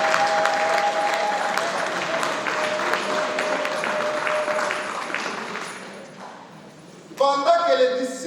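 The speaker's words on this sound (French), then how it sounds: "Applaudissons un peu pour les femmes" A congregation at a baptism ceremony claps for the women, dense applause mixed with an over-the-top voice and a faint tone, fading toward the end before louder ringing sounds take over.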